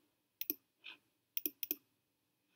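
A computer mouse clicks sharply in close, quiet pairs, two quick double clicks with brief soft rustles between them, then another click at the end.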